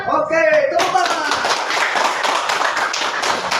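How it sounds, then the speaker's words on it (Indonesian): A group of students in a classroom claps hands together after a voice finishes speaking, a busy, close burst of many hands clapping that carries on at a steady level for a few seconds. "Oke, tepuk tangan."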